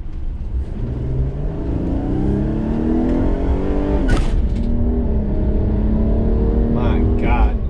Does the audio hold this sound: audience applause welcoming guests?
no